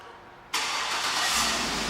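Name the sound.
2008 Chevrolet Suburban engine starting by remote start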